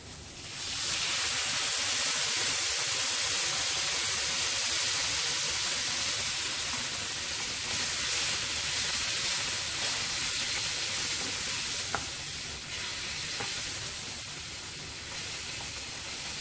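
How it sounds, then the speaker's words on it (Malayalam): Tomato mixture with tamarind water being sautéed in a pan for tomato rice, a long, even hissing sizzle close by with faint occasional stirring clicks, no voices. "ഇനി ഇത് നന്നായിട്ടൊന്ന് വഴറ്റി കൊടുക്കുക."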